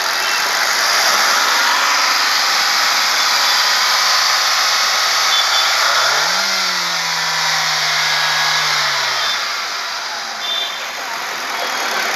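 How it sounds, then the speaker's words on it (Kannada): A 2016 Hyundai Grand i10 Sports petrol engine runs steadily and smoothly, a droning hum whose pitch rises and holds for a few seconds midway before settling back down. No voices. "ಕೇಳಿಸ್ಕೊಂಡ್ರ ಸೌಂಡು, ಇಂಜಿನ್ ಸೌಂಡು ತುಂಬ ಸ್ಮೂತಾಗಿ ಮೇಂಟೈನ್ ಮಾಡಿದ್ದಾರೆ"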